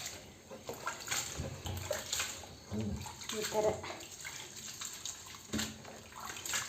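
Bamboo shoots are squeezed by hand in water to press out their juice, producing quiet sloshing and wet squelching in irregular bursts while a person talks over it.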